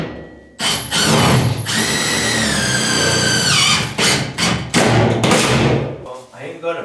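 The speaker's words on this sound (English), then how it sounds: "I am going to pre-drill on this one right here" A power drill pre-drills into a wall stud while an off-grid solar system is being installed, giving loud sustained whirring bursts with a rising pitch sweep and brief pauses between them.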